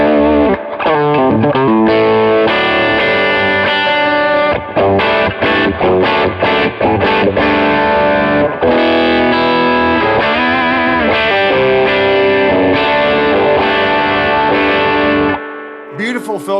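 An electric guitar with Filtertron pickups plays through a cranked Carr Super Bee amp. It gives a loud, driven, distorted tone with sustained chords and picked notes that run almost continuously before stopping near the end.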